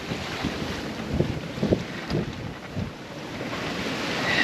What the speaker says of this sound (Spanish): es duro y es pesado navegar durante tantas olas con mala mar